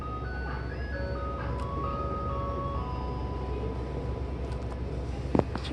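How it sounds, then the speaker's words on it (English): An ice cream truck playing its steady jingle melody over a constant engine and road hum, loud and continuous, with a brief sharp knock near the end. "Today we have an ice cream truck here."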